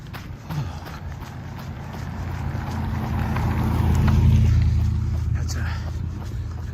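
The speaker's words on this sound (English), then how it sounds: "That's a city truck." A city truck drives past on a road, its low engine rumble swelling as it approaches and passes, then easing off, heard under a runner's footsteps and a speaking voice.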